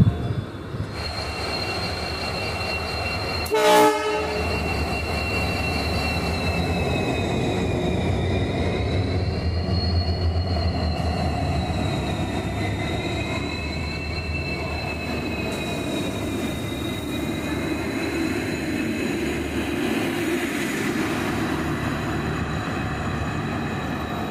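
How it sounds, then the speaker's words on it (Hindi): The Janmabhoomi Express rolls into Lalgarh Junction, a loud continuous rumble of wheels on rails with long, wavering high-pitched wheel squeal throughout and a sharp clank near the start, heard up close on the platform. "यही है हमारी ट्रेन 19-108 जन्मभूमि एक्सप्रेस, जो कि 10 मिनट की देरी से लालगढ़ जंक्शन पर आ चुकी है।"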